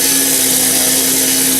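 A wood lathe spins a pen blank mounted on a bearing mandrel while a gouge shapes the profile, giving a steady loud whirring hiss with a constant tonal hum, short and uninterrupted.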